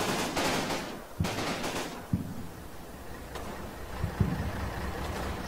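Gunfire from soldiers in the World War II game Combat Mission Fortress Italy, fought around San Pietro: a few sharp shots and short bursts crack over a steady rumbling battlefield background, with no talking.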